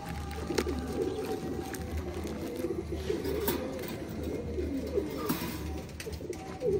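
A Lakha pigeon hen held in the hand, joined by her male, giving low, rolling coos that repeat steadily and close, over a constant background hum, with no voices.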